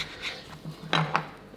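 A knife slicing through a Mexican sausage studded with chili peppers and onions, a few short crisp cuts and taps on a board, close and fairly quiet, with no talking.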